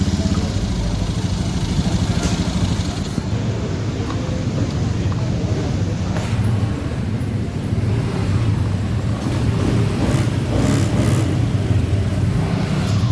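A Honda Vario 110 ESP scooter engine runs at a steady idle after starting, a continuous close, loud mechanical drone with no talk over it.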